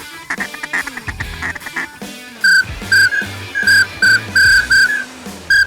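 Ducks quack repeatedly during a duck hunt, a run of loud, close bursts in steady rhythm that follow an earlier stretch of mixed calls and whistling.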